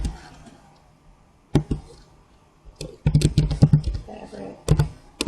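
Fingers tap out a short burst of clicking keystrokes on a computer keyboard, close and crisp, with a single keystroke before the run and pauses between them.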